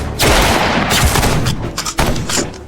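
Gunfire in a shootout crackles as rapid, loud shots and bursts overlap in a dense volley, booming close by with no pause.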